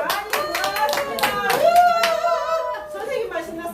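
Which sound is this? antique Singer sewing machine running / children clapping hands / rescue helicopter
children clapping hands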